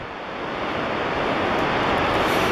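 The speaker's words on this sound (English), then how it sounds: "Here's the water going into the whirlpool. And there's the rapids of the river." Niagara River rapids pour into the whirlpool in the Niagara gorge, a loud, dense, unbroken roar of rushing white water, slightly swelling, with no voices.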